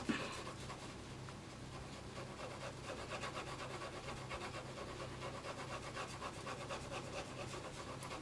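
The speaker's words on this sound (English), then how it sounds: "Remember to just use those tapered strokes so that it doesn't get streaky, and gradually just build it up and build it up." Polychromos coloured pencils are laid down in tapered strokes on paper while a colour wheel is coloured in, making a faint, continuous, quick scratching and rubbing close up.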